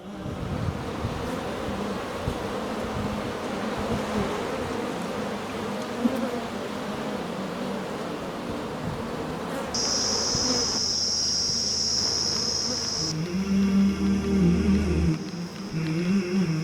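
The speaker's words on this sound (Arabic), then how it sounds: "توجد مناحل بن هويد، والتي تحتوي على النحل البلدي والمتعارف عليه" Native honeybees buzz steadily at an apiary in Wadi Al Jizi, Sohar, Oman, a dense close swarm drone that runs throughout, joined later by a sharper whining tone and lower hum.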